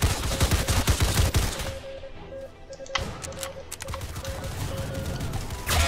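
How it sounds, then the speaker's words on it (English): Video-game battle gunfire in a town assault: dense bursts of rapid machine-gun shots at the start, then scattered sharper reports over a steady background hum, with no speech. "That guy has like a big machine gun."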